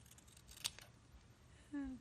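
Scissors trimming paper for a steampunk mint tin craft give a single quick, crisp snip against a quiet room, followed by a short faint tone.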